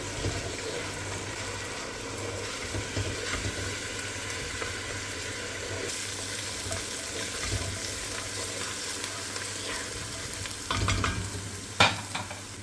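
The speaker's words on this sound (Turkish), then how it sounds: "5 diş doğradığım sarımsağı da ekleyip kavuruyorum" Steady sizzling of chopped onions and garlic frying in hot olive oil, with occasional stirring scrapes and a clatter near the end.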